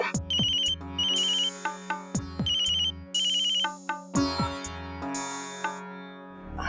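A telephone rings with an incoming call, its electronic ringtone chiming in repeated melodic bursts with short gaps, loud and close, with no voices over it.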